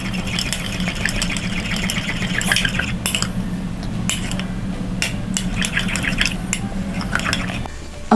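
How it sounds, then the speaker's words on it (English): A utensil scraping and clinking in a container while purple food coloring is stirred into glue for homemade glitter slime, close and steady over a constant background hum. "So we're just going to put probably 4 drops of color in there and mix it."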